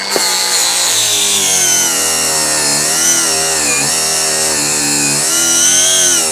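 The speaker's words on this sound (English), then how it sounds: "I'm just going to grind it off." A power grinder cutting off a metal part on a farm, a loud, steady whine with shifting pitch that continues close and uninterrupted.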